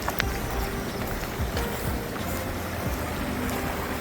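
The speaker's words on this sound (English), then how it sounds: "The waterfall right here, a little stream, creek going through here." A small creek and waterfall flowing beside the Columbia River Trail along the Susquehanna in Pennsylvania, giving a steady, unbroken rush of water that fills the whole stretch with no talking.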